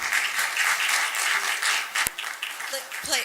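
An audience at a commission meeting applauds, a short burst of many hands clapping with a few sharp claps standing out, then fading as a voice begins to speak.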